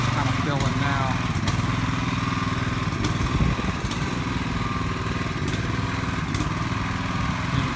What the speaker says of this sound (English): We got one of our pumps going here on this sidewalk.